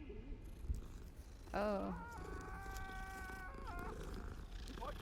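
A cat in a video game gives a rising, wavering meow followed by a long held tonal cry over a low background hum, with a brief spoken exclamation near the start.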